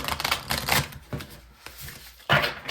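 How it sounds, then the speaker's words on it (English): A tarot card deck being shuffled by hand, several quick riffling bursts with short pauses between them, close and clear, with no talk. "So I'm gonna shuffle the deck here."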